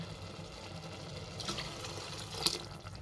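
Water poured into a cooking pan for tomato bath in a home kitchen, a steady soft splashing stream with a brief brighter splash near the end, moderately close and fairly quiet.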